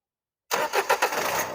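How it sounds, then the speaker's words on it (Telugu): A 2016 Renault Lodgy RXZ car engine cranks and catches after half a second of silence, settling into a close, steady mid-pitched running sound with a few pulsing surges. "ఇది వచ్చేసి ఇంజిన్ కూడా స్టార్ట్ చేసి చూపిస్తాను."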